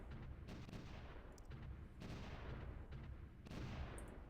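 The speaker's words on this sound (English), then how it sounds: "Artillery's going to land there." Artillery shells land in the World War I strategy game Supreme Ruler: The Great War. The game audio is faint and dense, with a continuous rumble of distant barrages and explosions and a few sharper bursts rising out of it.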